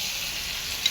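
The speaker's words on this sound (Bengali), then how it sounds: "মাটনের ভিতরে পেঁপেগুলো দিয়ে দিলাম।" Fried papaya pieces dropped into a pot of mutton curry give a brief, even sizzling hiss, close and steady, with one small tick near the end.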